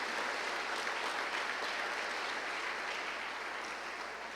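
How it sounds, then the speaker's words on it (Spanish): A church congregation claps loudly and steadily in a dense, sustained wave of applause offered to God, filling the room evenly throughout with no voices on top. "Damos fuerte esa ofrenda de palmas a nuestro Dios"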